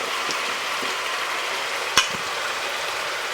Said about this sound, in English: I'm just going to put a few peppers on top